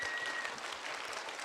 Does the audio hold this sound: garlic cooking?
no